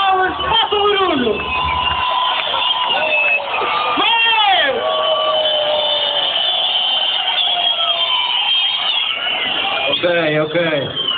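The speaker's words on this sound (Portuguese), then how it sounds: "vamos lá gritar, bem alto, vamos lá, assobiar, palmas, faça barulho" A big outdoor crowd at a DJ party in Machico shouts, whoops and whistles loudly and continuously, with voices rising in yells and pitched whistles over dense babble.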